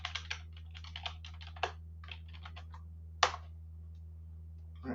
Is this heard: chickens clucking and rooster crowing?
no